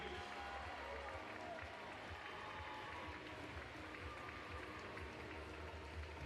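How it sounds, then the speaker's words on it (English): Spectators at a county swimming championship final clap and cheer in a continuous, even wash of applause filling an indoor pool hall, with no single voice standing out. "Give him a big cheer to get him down this last 50."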